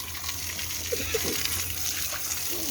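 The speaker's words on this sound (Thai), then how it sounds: "น้ำไหลแรงมากครับ" Water gushes hard and steadily from a hose while a car is washed outdoors at a house, a close, constant rushing hiss with a faint voice and small splashes beneath it.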